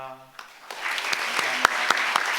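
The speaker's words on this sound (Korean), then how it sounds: "우리 권사님 인사하실 때 우리 박수로 격려했으면 좋겠습니다" A church congregation applauds a retiring deaconess at a worship-service retirement ceremony. A brief voice comes first, then the clapping swells quickly and continues loudly to the end.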